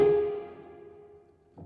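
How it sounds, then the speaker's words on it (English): A single struck note from a prepared piano rings out and decays slowly with a metallic, slightly buzzy tone, followed near the end by a softer second attack, close and quiet. "the prepared piano kind of thing. It's the piano recording itself."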